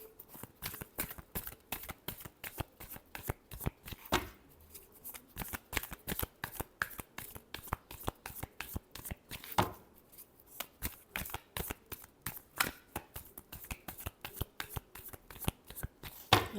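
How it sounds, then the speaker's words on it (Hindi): Tarot cards being shuffled by hand during a reading, a long run of rapid, crisp riffling flutters and soft card slaps, close and steady with brief pauses between bursts. "Last shuffle."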